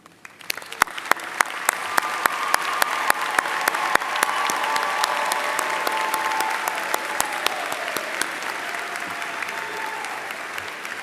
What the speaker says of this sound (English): please join me in applause